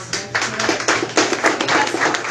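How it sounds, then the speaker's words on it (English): Brief applause at a neighborhood candidates forum in Rockport for Mr. Webb, a handful of close, uneven claps from a small audience in a room, rising and fading over a couple of seconds. "I just would like for y'all to give him a round of applause."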